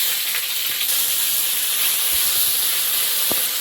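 Whole cumin and bay leaf sizzle in hot oil as a dense, loud, continuous hiss close up, with a few faint clicks and pops underneath.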